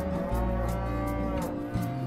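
Cattle on a Riverina livestock property lowing in deep, drawn-out moos, several overlapping calls in steady succession, close and loud, with no talk.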